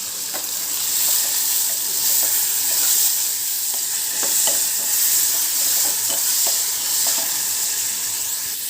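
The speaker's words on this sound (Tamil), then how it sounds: "இப்போ தக்காளி நல்லா வதங்கிடுச்சு." Tomatoes and onions sauté in a pan, making a continuous loud sizzle with light repeated stirring clicks and scrapes spread through, and no voices.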